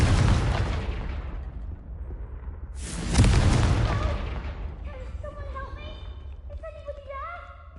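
A Confringo spell from Hogwarts Legacy bursts in a loud blast with a long crackling tail. A second heavy boom follows, then bright magical chimes ring out.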